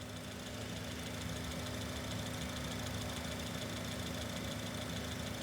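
A running engine is heard through a microphone placed on the engine block. It gives a steady, low, droning hum with a faint rhythmic knock and no variation across the whole span.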